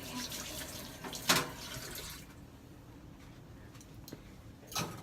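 Surgical instruments are rinsed under a running tap to wash off blood, a steady close gush of water that softens midway, with a few clinks and splashes and no speech.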